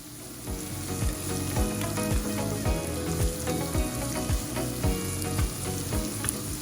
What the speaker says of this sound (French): j'ajoute l'équivalent de 3 gousses d'ail, un oignon rouge que j'ai coupé et je vais les faire revenir dans l'huile de cuisson